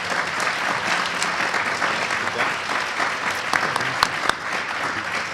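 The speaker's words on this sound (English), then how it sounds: "How about a round of applause for our panel?" An audience at a school district parent support organization dinner applauds a panel with steady, dense clapping that holds throughout, a few sharper claps standing out near the end.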